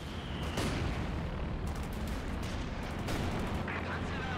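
Panzerwerfer rocket artillery in Company of Heroes 2 fires amid a dense battle, with several sharp bangs and rumbling blasts layered over continuous combat noise while a voice talks throughout.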